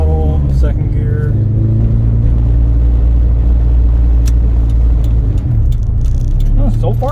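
A Honda Acura Integra DA with an OBD1 conversion drives on a test run, its engine droning steadily through light throttle while shifting from first into second gear, with a person talking over the engine noise.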